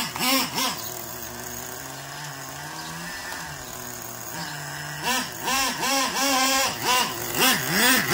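A small high-revving Traxxas nitro RC truck engine putters and idles nearby, its pitch rising and falling in quick bursts, with a steadier idle stretch in the middle.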